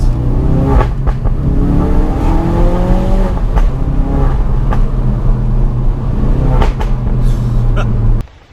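A 2017 Ford Focus RS MK3 engine revs loudly and steadily up close, with rising pitch sweeps from repeated throttle blips and a constant deep drone, then cuts off abruptly near the end.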